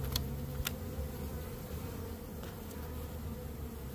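Rescued bees buzz inside a hive box fitted with frames, strings and rubber bands, a soft continuous drone of many insects with a few louder close wingbeats passing near early on.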